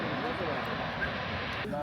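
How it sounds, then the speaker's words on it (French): Volcanic gas venting inside the Bromo volcano crater in Indonesia, a steady loud roaring hiss like a jet engine that runs unbroken, with a voice faintly heard beneath it. "C'est le gaz qui sort. Ceci c'est l'intérieur d'un volcan."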